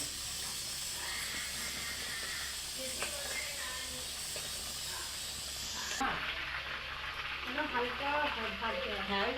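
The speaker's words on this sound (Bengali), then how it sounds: "দেখো প্রথমে মাছগুলো ভাজা হয়ে গেছে এবার আর সব মাছগুলো ভেজে নেবে এক একটা করে" Hilsa fish fry lightly in a pan of oil with a steady hiss and sizzle, which continues under a person talking during the latter part.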